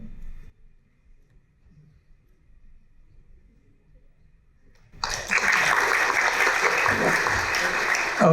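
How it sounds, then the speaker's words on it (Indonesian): Studio audience at an Indonesian talk show bursts into loud applause after a quiet stretch, the clapping holding steady and full to the end. "Kita berikan aplaus."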